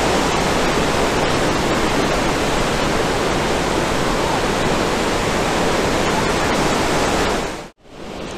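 Water roars loudly and continuously through the six open gates of Pinnapuram Dam, a dense, unbroken rushing close by that cuts out abruptly near the end.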